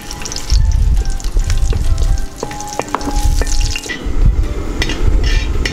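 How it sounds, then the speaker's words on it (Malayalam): Cashew nuts frying in ghee and oil, a loud steady sizzle with bubbling crackle and occasional stirring clinks, continuous throughout with a brief dip in the middle. "നമുക്കിനി ഇതുപോലെ തന്നെ നമുക്ക് ഈ അണ്ടിപ്പരിപ്പൊന്ന് നമുക്ക് ഫ്രൈ ചെയ്തെടുക്കാം"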